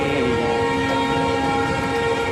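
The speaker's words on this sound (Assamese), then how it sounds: "তো ট্ৰেইন এখন আহিলে" A train pulls into Simaluguri Junction station with a loud, continuous rumble of rolling wagons and a sustained horn-like tone riding over the top, close by and unbroken throughout.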